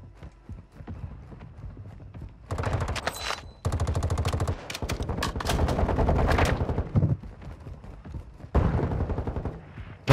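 Video game gunfire in a multiplayer match, bursts of rapid shots in several loud volleys separated by brief lulls, with clattering effects mixed in.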